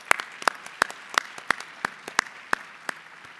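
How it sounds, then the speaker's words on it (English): Sparse, evenly spaced claps ring out one by one for presenters at an Arch of Triumph awards evening, a slow rhythm of sharp single hits over a quiet room. "Let's give them all a round of applause."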